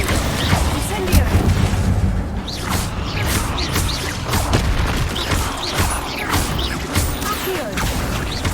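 Fire spell effects from the Hogwarts video game: a dense, continuous barrage of crackling blasts and impact booms, loud and steady throughout, with combat noises layered over it.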